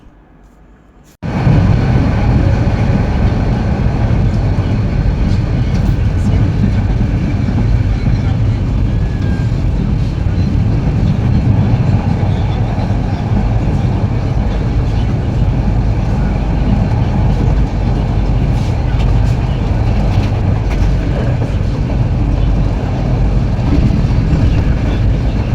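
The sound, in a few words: Suborna Express train running from Dhaka to Chattogram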